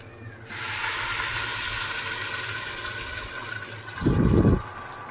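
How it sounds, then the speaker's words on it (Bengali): Hot water pours onto fried rice in a pot for sweet Bengali polao, a sudden rushing, hissing gush that runs steadily for several seconds and ends with a brief deeper bubbling surge, close by and with no talk. "এখন আমি গরম পানি দিয়ে দিচ্ছি"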